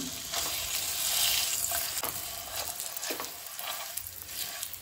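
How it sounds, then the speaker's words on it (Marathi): Dates fry in ghee in a pan, a steady close sizzle with occasional stirring scrapes, heard alone without talk. "हे जे खजूर आमी घेतलेले पळय ते हितून फ्राय करून घेवया."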